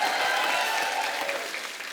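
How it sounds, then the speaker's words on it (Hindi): Brief burst of studio audience clapping on a comedy talk show, loud at the start and tapering slightly over two seconds, with no voices over it. "क्या बात है रेमो डिसूजा, जोरदार ताली।"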